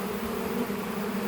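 Honeybees fan at a hive box after the queen has gone in, a close, steady buzzing drone of many wings that holds an even pitch throughout the short stretch.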